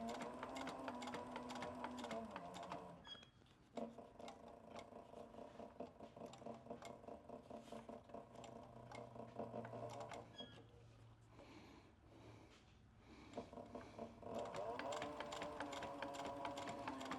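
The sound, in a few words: sewing machine stitching leather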